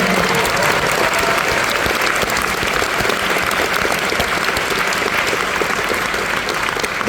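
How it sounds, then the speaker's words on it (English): A theater audience claps after a film screening, dense sustained applause from many hands, loud and close, steady throughout with a faint murmur of voices beneath. "can we grab a round of applause for"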